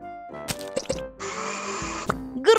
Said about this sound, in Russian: в блендер фрукты мы суем